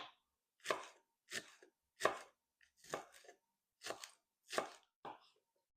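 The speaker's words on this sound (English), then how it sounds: "I'm just going to slice these fine" A knife slices vegetables finely on a board in seven evenly spaced, crisp strokes about two-thirds of a second apart. The cuts are close and distinct, with silence between them.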